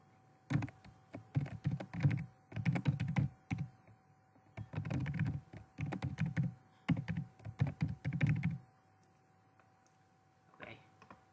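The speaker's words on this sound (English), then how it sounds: "You just type it back in some other place" Bursts of rapid clicking on a computer keyboard, close and crisp, arriving in several runs of quick keystrokes separated by short pauses, with a faint voice near the end.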